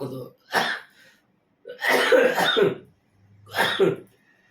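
A person coughs in several separate harsh bursts, close and loud, the longest fit a cluster of rough hacks in the middle, with quiet gaps between, suggesting painful coughing that strains the ribs.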